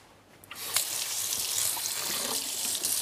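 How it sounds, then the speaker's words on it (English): Running tap water pours steadily over a kitchen knife being washed in a sink, a continuous close splashing hiss that starts after a brief quiet moment and holds to the end. "I'm going to put this knife over here to wash."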